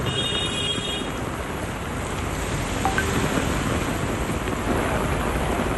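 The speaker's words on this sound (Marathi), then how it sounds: "रात्री 11 नंतर अंधेरी ते कांदिवली पट्ट्यात मुसळधार पाऊस सुरू झालाय" Heavy night rain pours over flooded streets in suburban Mumbai between Andheri and Kandivali, a dense, steady roar of water close by with no break across the whole stretch.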